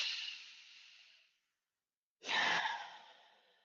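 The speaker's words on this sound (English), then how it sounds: "Go ahead and start to lengthen your breathing again." Slow, drawn-out breathing during a yoga session: a long airy breath fades out, then after a silent pause a second full breath rises, close and alone with no talking.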